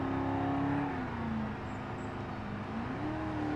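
A 1964 Gavril Bluebuck in a driving video game decelerates under engine braking, its steady engine drone dipping in pitch, then rising again as the revs climb, close and continuous with no talk.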